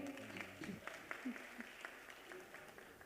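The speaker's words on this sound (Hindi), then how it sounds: "एक बार जोरदार तालियां हो जाए" Scattered applause from a mushaira audience at a poetry gathering in Etah, fairly faint and uneven, with a voice speaking over the clapping.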